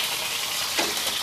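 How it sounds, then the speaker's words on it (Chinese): Fish pan-frying in oil until golden on both sides, a steady close sizzling hiss with a brief louder crackle partway through, and no talking. "鱼煎到两面金黄之后"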